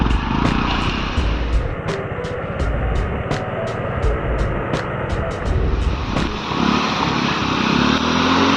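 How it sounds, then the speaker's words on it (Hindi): A motorcycle standing in the Ganges river is started and runs with a loud, rough engine drone broken by a series of sharp pops and crackles, without speech. "ऐसे बाइक को स्टार्ट करिए।"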